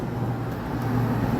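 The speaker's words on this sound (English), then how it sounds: "is it loud with all the road noise?" Steady roadside traffic rumble with passing vehicles, broadband and fairly constant, swelling slightly toward the end, heard from the shoulder of a road beside a parked Ram pickup truck.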